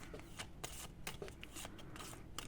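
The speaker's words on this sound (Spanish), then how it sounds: "vamos a barajar y a ver lo que nos dicen" Rapid riffle-shuffling of a deck of tarot-style reading cards, a string of crisp papery bursts and flutters repeating in quick succession, close and moderately loud, with no talk.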